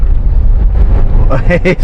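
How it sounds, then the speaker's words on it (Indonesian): A Honda CR-V third-generation engine revs hard, rumbling loudly beneath strong wind buffeting, with a person speaking over it toward the end. "Sekarang kita geber 170 horsepower."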